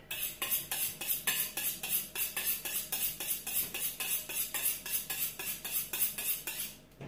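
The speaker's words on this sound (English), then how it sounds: "So I'm just going to give my knife a sharpen." A kitchen knife is drawn briskly over a sharpener in a steady series of about twenty metallic scraping strokes, close and crisp, with no talking.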